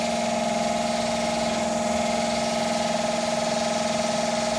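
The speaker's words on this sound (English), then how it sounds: "Now it is going for 1250 RPM, and this also pressure has been tested around 5 bar." A fuel pump test bench runs steadily at 1250 RPM during a pressure test at around 5 bar, giving a continuous, even mechanical drone with a constant hum and no talk.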